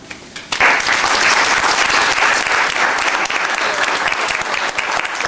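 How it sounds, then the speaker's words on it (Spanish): Audience applause honors Dr. Alfredo Guzmán Sosa Azamar at a book presentation for "No me rendi y no me rindo" at the CDHDF, bursting in loudly after a brief pause and holding as a dense, steady roar of many hands. "a quien le pedimos un aplauso para él"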